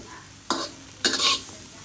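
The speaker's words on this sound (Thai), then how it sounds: "คั่วพริกกระเทียมในกระทะก็ใช้น้ำนะคะ" Chili and garlic dry-roasting in a pan for queen ant chili paste: two short spatula scrapes about half a second apart over a faint background hiss, close but quiet.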